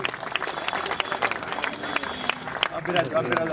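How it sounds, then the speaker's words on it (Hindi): Audience applause at a Jat community awards ceremony: scattered, uneven clapping from a gathered crowd, with people talking over it and a louder burst near the end. "तालियां की गड़गड़ाहट आ गई।"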